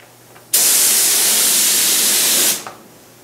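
A spray gun applies epoxy primer to bare metal during a car restoration, a single loud steady hiss lasting about two seconds that cuts in and stops abruptly, close by with no talking.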